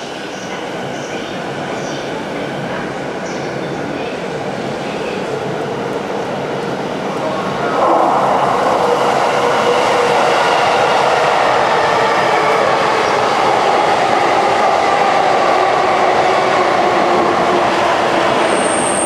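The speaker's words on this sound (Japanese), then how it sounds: "4番線ドアが閉まります。 ご注意ください。 Please stand clear of the closing doors." A train pulls out of Kanda station in Tokyo after its doors close: a loud, continuous rumble that swells halfway through as the cars gather speed, with platform noise around it.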